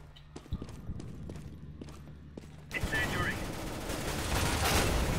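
Rapid bursts of P90 submachine gun fire in Counter-Strike: Global Offensive, a dense loud fusillade following a few sharp single shots and footsteps, with game effects continuing throughout.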